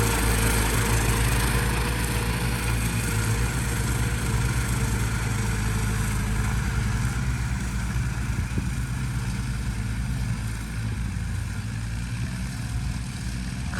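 A Kubota 4x4 ride-on lawn mower with a three- or four-cylinder engine runs steadily with a constant low drone and mechanical whine, loud and unbroken from start to finish, with no talk.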